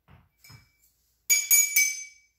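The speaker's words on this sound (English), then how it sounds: "use spoons, metal spoons, do it gentle, because if you do it too hard, you can break the glasses" Glass bottles holding water are tapped gently with metal spoons, ringing out three bright, resonant clinks in quick succession after a few soft knocks, each tone sustaining clearly with no talk over them.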